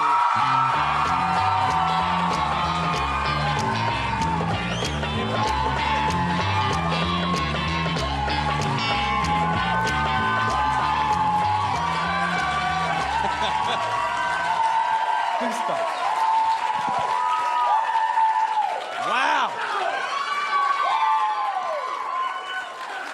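An audience at Gotham Comedy Club breaks into sustained applause and whoops under a thumping music bed. The music drops out partway through, and a host speaks over the cheering.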